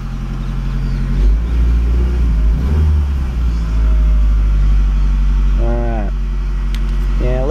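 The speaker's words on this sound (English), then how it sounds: "This is the sound of the car's engine right here." A car's engine runs at a steady idle, a loud, close, low rumble that stays constant throughout, with brief vocal sounds over it near the end.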